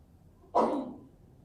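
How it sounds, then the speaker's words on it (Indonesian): A single short cough from someone in the audience at an Islamic sermon, one sharp burst that fades quickly in a quiet room. "jangan batuk-batuk mulu"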